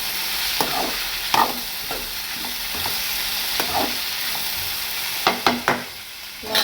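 Cluster beans fry in a pan with a steady sizzle while a spatula stirs them, scraping and tapping the pan now and then, up close with no voices.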